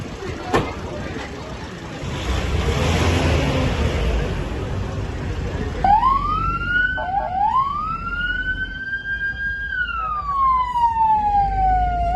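Wailing ambulance siren at a car crash scene in Esenyurt, Istanbul, rising in clear sweeping tones that swoop up and down over a busy crowd and traffic din, with people talking and shouting nearby.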